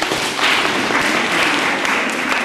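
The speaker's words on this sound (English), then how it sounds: "Clap for yourself." A girls' high school class in Westlands claps together in a dense, even burst of applause that fills a classroom at close range for a couple of seconds.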